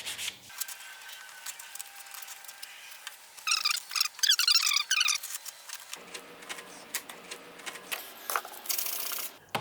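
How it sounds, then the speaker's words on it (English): A wooden tapered tenon cutter is sanded by hand, heard as faint close rasping and rubbing strokes with a cluster of quicker scrubbing passes midway. "so I do need to sand this line out and remake that after"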